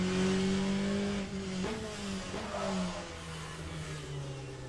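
A race car engine in the racing video game Le Mans Ultimate roars close and constant, its pitch wavering and easing down as it runs, with no voices.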